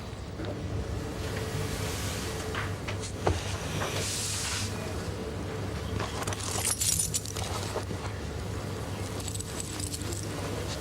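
Keys jangle in a hand as they are set down alongside a mangalsutra necklace, several light metallic clinks over a steady low background hum, with no talk.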